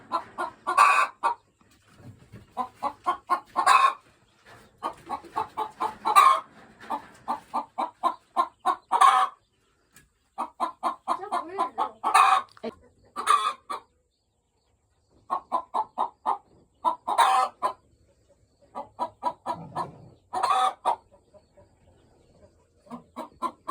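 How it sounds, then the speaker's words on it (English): Black Ayam Cemani chickens cluck close by in short, repeated rhythmic bursts separated by brief pauses, with a few quiet low notes. "Look at our little Ayam Cemanis."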